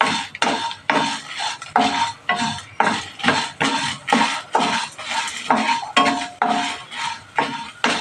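Whole peppercorns, cloves, a piece of cinnamon and coriander seeds dry-frying in a pan for Mangalore-style chicken curry, heard as steady rhythmic scraping and stirring of a utensil against the metal, close and fairly loud with no talk.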